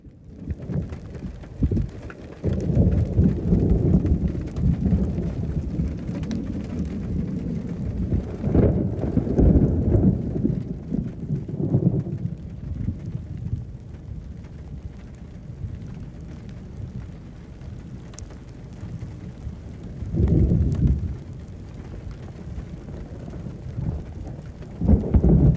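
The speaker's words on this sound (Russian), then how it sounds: "Вчера там прошла гроза." A thunderstorm in Jizan, Saudi Arabia brings steady heavy rain hissing on surfaces, broken by several deep rumbling thunder rolls that swell and fade, one strong roll near the middle and another late on.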